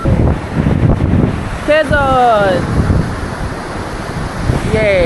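Steady wind roars across a rainy beach at Quezon, with surf noise mixed in. People shout and sing over the constant rushing gusts.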